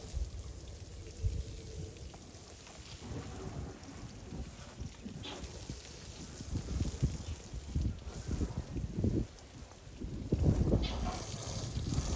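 Gusty wind buffets the microphone in low rumbling bursts, with water and boat noise underneath and the gusts swelling louder near the end.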